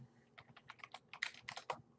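Quick keystrokes clatter on a computer keyboard in a short, irregular burst of clicks, faint and close, with no talk over them.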